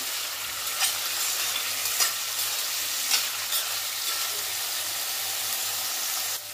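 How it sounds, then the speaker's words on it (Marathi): Paneer shallow-frying in a ladle of oil in a pan over medium-low gas gives a loud, continuous sizzle with a few sharper crackles and pops spaced through it, close up and with no voices. "1 पळी तेल टाकून घेऊया आणि पनीर हलकं असं फ्राय करून घेऊया"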